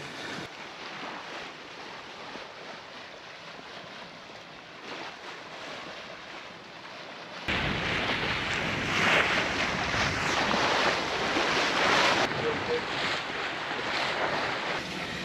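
A sailboat under way in pleasant wind with the swell blocked by islands in the British Virgin Islands: steady wash of water along the hull and gusty wind buffeting the microphone, growing noticeably louder and rougher partway through, with no talk.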